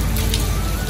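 Heavy rain falls steadily outdoors, a dense, continuous hiss of drops hitting surfaces, loud and close with no voices.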